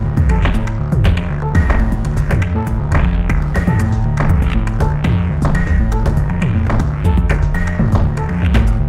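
A punchy DM10 drum machine app beat loops steadily, kicks and hits thumping in a tight rhythm with a dense, heavily compressed, pumping loudness.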